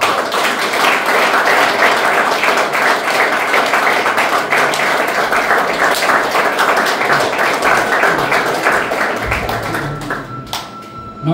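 A room full of people claps steadily to welcome the next participant at a cultural performance event, dense and sustained for about ten seconds before thinning out near the end.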